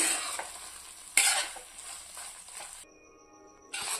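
A spoon scrapes and stirs carrot halwa in a pan, giving soft intermittent sizzling strokes with a sharp scrape near the middle and a brief quiet gap before the stirring resumes.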